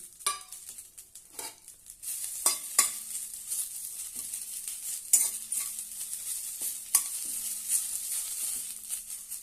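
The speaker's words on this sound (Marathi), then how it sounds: "आता आपण पुदिना भाजून घेऊया छानपैकी" Mint leaves roasting dry in a pan for pudina chutney, a steady soft sizzle with repeated scraping strokes of a spatula against the metal, close and continuous with no talk.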